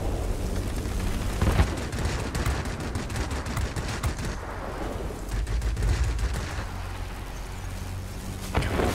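Dense rapid machine gun fire from an aircraft rear gunner in World of Warplanes, continuous rattling bursts over engine roar, loud and sustained with brief lulls.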